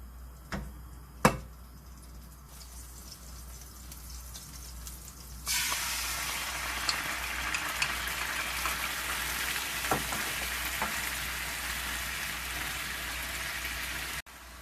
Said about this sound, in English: This time, let's boil the sauce in the pan with oil.